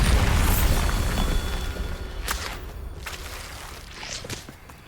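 A Bombarda spell explosion in the video game Hogwarts Legacy: a loud booming blast that rumbles and slowly fades, followed by several sharp crackling bursts and debris impacts.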